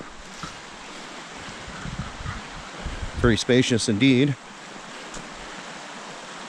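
The Carson River flows beside a bikepacking campsite with a steady, broad rushing wash heard up close. A person speaks briefly over the water near the middle.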